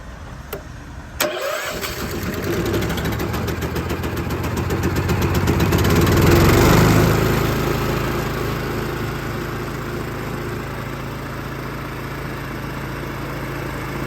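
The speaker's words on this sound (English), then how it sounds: "This is the Mighty M. It's run off a Honda gas engine." A Honda gas engine driving a compressor, welder and generator combo unit on a 2012 Ford F550 mechanics crane truck cranks, catches and starts, then runs loud and steady for a long stretch at a constant pitch.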